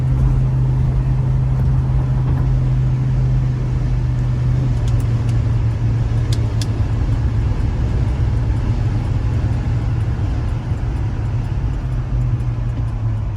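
A restored 1969 Pontiac GTO with a 400 engine and automatic transmission cruises down the road, its low, steady engine drone and road rumble continuous and loud throughout, with no talking.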